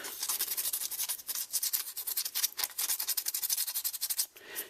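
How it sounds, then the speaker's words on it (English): Back-and-forth sanding of a carved wooden crankbait fishing lure, a dense, steady rasping of abrasive on wood with short pauses between strokes, close and fairly loud, no voices. "No, we got to sand it a little bit more."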